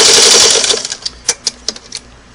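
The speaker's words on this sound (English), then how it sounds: "I'll sew it off with a forward number 6 length" Singer Model 99K sewing machine stitching forward, a quick whirring run of needle strokes that stops, followed by a few separate sharp mechanical clicks.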